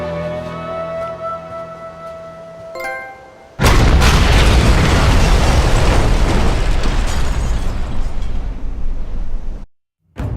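Missile launch and explosion in a Socom 4 cutscene, fired into a strait: a quiet tonal score gives way to a sudden, loud, roaring blast that rumbles on for about six seconds before cutting off abruptly.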